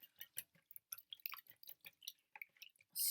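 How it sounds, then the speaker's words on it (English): A whisk pounds and mashes soaked wet papery material in a container, giving quiet, close, rapid squelchy taps and squishes in an irregular rhythm, ending with a brief louder rush. "I found a whisk was quite good just by pounding it"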